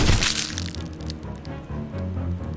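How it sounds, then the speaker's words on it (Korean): In a zombie-outbreak horror story set in a school, flesh is crushed and bones break with sharp cracks and wet crunching. A loud crack opens the sound, and crushing and squishing follow in an uneven run under a low rumbling bed. "살이 짓눌리고 뼈가 부러지는 소리가 들렸다."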